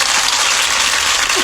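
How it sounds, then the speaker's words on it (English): Loud, dense applause from an audience, continuous clapping throughout. "Round of applause."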